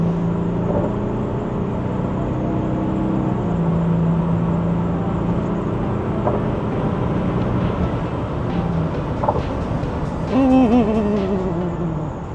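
A Toyota Land Cruiser 300 accelerating hard in sport mode, a steady loud engine and road drone heard from inside the cabin, rising toward a whining surge near the end, with no talking.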